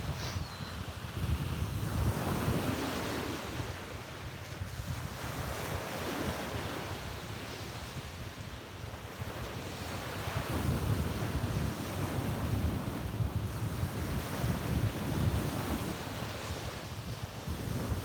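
Atlantic Ocean surf washes onto a beach at sunrise in a steady, continuous roar with rolling swells, under wind rumbling across the microphone.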